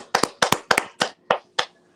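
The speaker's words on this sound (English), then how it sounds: "let's all clap it up for Flint" Hands clap seven times in a slow, uneven rhythm, each clap sharp and close, with short gaps of quiet between them and no talk.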